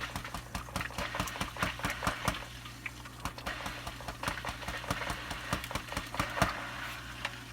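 An Eheim aquarium canister filter pump purges trapped air with steady close motor hum and rapid irregular ticking and sputtering clicks throughout.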